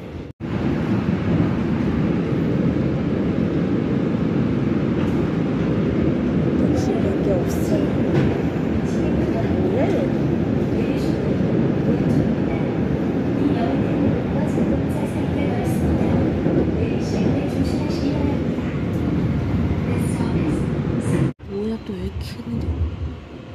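Train pulling into Cheongnyangni station in Seoul, a loud, close, sustained rumbling roar of wheels and carriages with wind buffeting the microphone, cutting off abruptly near the end.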